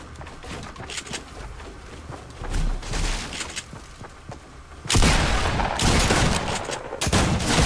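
Gunshots in a Wild West–themed Fortnite duo match, loud booming reports with one heavy burst around the middle and more shots following, set against quieter ambient game noise and faint footsteps.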